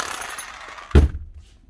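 A repaired power tool, back in working order after a blown fuse was replaced, gives a single loud, close percussive hammer blow after a stretch of lighter mechanical noise, then dies away into quiet.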